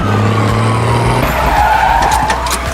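A car skids hard in an anime chase scene, with a loud engine note cutting into a long, close tire squeal and scraping noise that fills the whole stretch.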